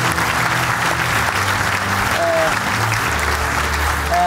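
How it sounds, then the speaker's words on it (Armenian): Live audience at a comedy league final applauding the comedians, loud continuous clapping filling the room for several seconds with faint crowd voices underneath. "Եկեք եւս մեկ անգամ ծափարենք Թադեին,"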